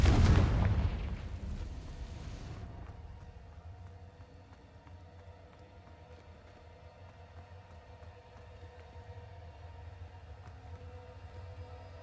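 A Confringo blasting spell in the Hogwarts Legacy video game detonates in one loud, close explosive burst, then fades into a long low rumbling tail over faint ambient hum.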